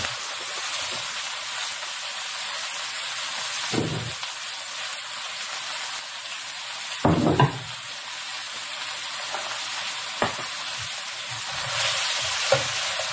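Half an onion, half a pepper and half an apple sizzle steadily in a hot pan for pork chop dressing, with several louder scraping stirs breaking through the constant frying hiss; no one speaks.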